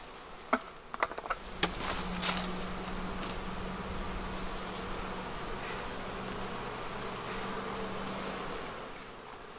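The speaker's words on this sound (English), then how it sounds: "I just put smoke in there and that whole hive got loud." Dense, steady buzzing of many honeybees in a hive just smoked, humming continuously close by, with a few scattered clicks and taps early on.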